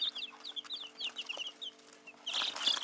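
Several young chicks, one of them sick with splayed legs, cheep under a heat lamp: rapid, high, thin peeps repeat close by over a faint steady hum, with no talking.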